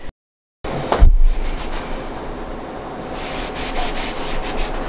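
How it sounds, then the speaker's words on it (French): A small iron slides along folded fabric during sewing, a soft knock followed by a continuous close-up rubbing and gliding sound. "je vais passer un petit coup de fer tout le long"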